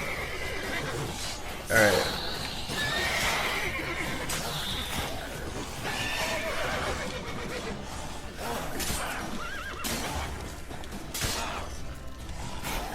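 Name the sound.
horse neighing in video game Witcher 3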